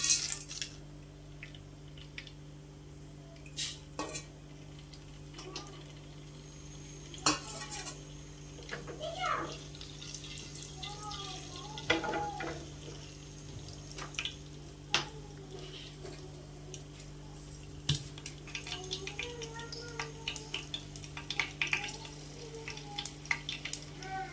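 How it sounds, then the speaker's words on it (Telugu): Whole spices (bay leaf, pepper, shahi jeera, a cardamom pod, cinnamon and cloves) drop into heated oil in a pan, giving a quiet, steady sizzle broken by scattered clinks and scrapes of a utensil, with faint voices in the background. "ఆయిల్ హీట్ ఎక్కింది. ఇప్పుడు మసాలాలు వేసుకుందాం."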